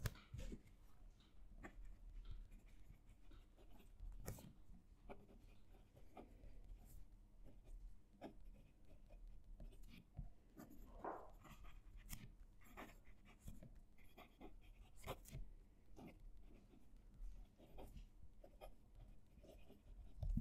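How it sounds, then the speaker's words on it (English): Cult Pens Mini fountain pen drawing cross lines on paper, with faint close scratching strokes and soft taps at an uneven rhythm over quiet room background. "I'm going to reposition the mic so you can hear the pen writing."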